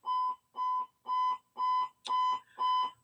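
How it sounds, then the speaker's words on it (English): A fire alarm sounds at close range in a home, six evenly spaced electronic beeps, each about a third of a second long, repeating steadily at a loud level with nothing else heard. "Usually when this fire alarm goes off"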